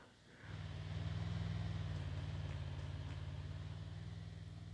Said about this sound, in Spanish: Escucho otro carro.